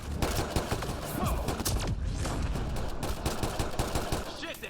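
Rapid gunfire rattles in the Mass Effect Andromeda video game, a loud, dense stream of automatic shots and bursts running continuously, with a voice speaking briefly over the shooting.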